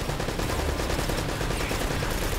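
Sustained automatic gunfire in Uncharted: Drake's Fortune, a dense unbroken rattle of shots, loud and close throughout with no talk.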